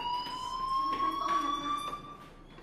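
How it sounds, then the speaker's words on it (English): A fire alarm rings in the video game Life is Strange. It makes a steady, piercing electronic tone with harmonics and holds at moderate volume throughout, with faint background shuffling underneath. "Hey, do you hear that fire alarm?"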